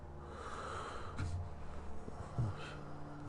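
A woman snores loudly in the background at night, with low rasping snorts arriving in two or three irregular pulses over a steady hum, heard at a moderate distance with no talking.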